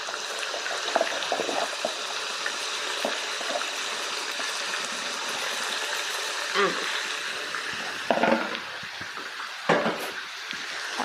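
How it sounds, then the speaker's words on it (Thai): Pork stir-fried with shrimp paste and sator stink beans sizzles steadily in a pan, a continuous close crackle broken by scattered scraping and clattering stirring strokes. "ใส่สตอลงไปผัดเนาะ"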